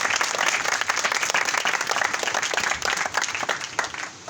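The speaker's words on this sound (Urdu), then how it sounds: "زوردار تالیاں بجائیں اپنے لیے، پاک روح کے لیے، زوردار تالیاں" A crowd claps together in loud, dense applause, steady and close, then thins out slightly near the end.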